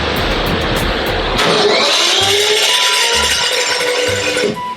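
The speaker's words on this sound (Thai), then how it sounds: "เราจะสตาร์ทยังไงดี คันนี้มีไดสตาร์ทด้วย" An ER 600cc motorcycle engine cranks on its electric starter and catches, settling into a steady, loud mid-pitched running note close by.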